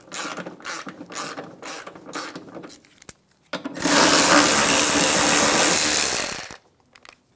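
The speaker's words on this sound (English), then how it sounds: "Using a 10mm socket, we're going to remove the nut for the bracket" A ratchet with a 10mm socket works loose a bracket nut on a 2007-2017 Ford Expedition, first in short clicking bursts, then in a loud, sustained run of rapid ratcheting for about three seconds.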